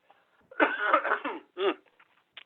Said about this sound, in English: hold on, I'm going to have to cough